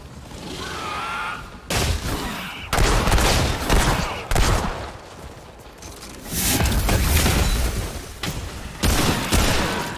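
Rifle fire and combat noise in the video game Remnant II, loud repeated bursts of shots and impacts in quick succession that fill the whole stretch.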